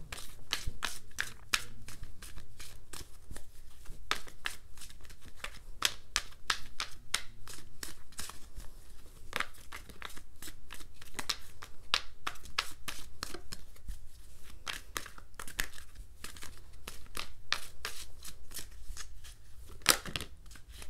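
Wisdom of the Oracle cards being shuffled by hand, a long run of quick, crisp riffling snaps and soft card slaps, fairly quiet and close, with no talking.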